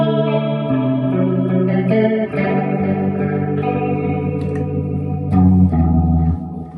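Electric guitar played through a delay pedal in a late-60s rock style, loud sustained chords and note runs with a trailing echo and chorus-like shimmer, played alone without speech.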